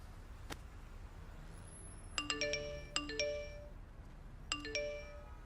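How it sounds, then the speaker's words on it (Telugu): Short electronic chime tones from a mobile phone after a new SIM card is put in: three quick bursts of bright ringing notes, each a small cluster of pings, fairly quiet over a low background hum. "ఏంటి ఇన్ని మెసేజ్లు వస్తున్నాయి?"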